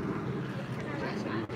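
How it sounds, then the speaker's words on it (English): Jet engines on a hovering machine at the Glastonbury festival roar in a steady, dense, unbroken wash of loud noise, with wind buffeting the microphone throughout. "Jet engines."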